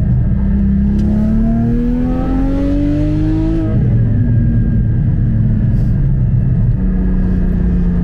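A Porsche Cayman GT4 981 engine pulls hard through the gears, its pitch climbing, dropping at a shift near the midpoint, then rising again in a loud, close, continuous roar.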